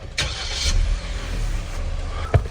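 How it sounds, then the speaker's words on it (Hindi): A Suzuki Jimny 4x4 engine cold-starts with a short cranking burst, then settles into a steady, close idle, with a brief knock near the end. "गाड़ी करते अपनी कोल्ड स्टार्ट।"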